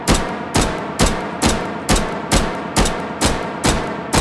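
A handgun in the VR shooter H3VR fires one-handed at a steady, measured pace, about ten sharp, loud reports evenly spaced, each with a brief ringing tail and no voices.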